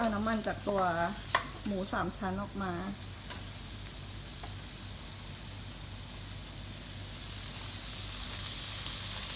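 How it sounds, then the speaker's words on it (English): Pork for kimchi stir-fry sizzles in its own fat with garlic and no oil, starting under a man's brief speech, then a loud, close, steady frying hiss that swells toward the end. "we're gonna stir fry it just a little bit in its own fat, no oil"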